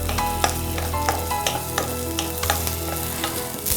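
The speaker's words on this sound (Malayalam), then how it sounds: "അതും ഈ 1 ടീസ്പൂൺ വെളിച്ചെണ്ണയിൽ ഇങ്ങനെ ഒന്ന് വാട്ടിയെടുക്കാം" Shallots and garlic sautéing in a teaspoon of coconut oil for a mango chutney, a steady soft sizzle broken by the scrape and clink of a spoon stirring the pan at regular intervals.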